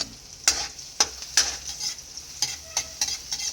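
Ginger and then garlic hit hot oil in a pan for native chicken tinola, giving a steady close sizzle punctuated by several sharp stirring scrapes and clatters, with no voices.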